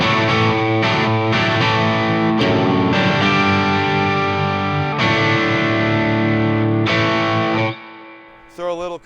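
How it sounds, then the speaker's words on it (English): An electric guitar runs through an Ibanez Tube Screamer overdrive pedal with no compression, loud sustained distorted chords ringing out in a few strummed bursts before cutting off into a short final scrape. "So here's just my Ibanez Tube Screamer without the compression."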